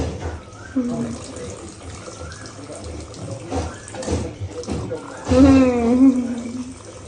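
A tap runs steadily while a child's hands are washed at a sink, a continuous splashing wash of water close by. Voices talk over it throughout, one rising in pitch toward the end.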